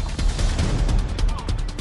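Rapid bursts of assault rifle fire, such as from an M4, crack out in a dense, continuous volley of sharp repeated shots, loud and close, with a voice speaking underneath.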